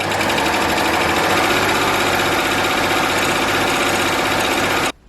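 A Babylock Acclaim overlocker runs steadily as it stitches tulle fabric, a loud continuous rapid whirring hum that stops abruptly near the end.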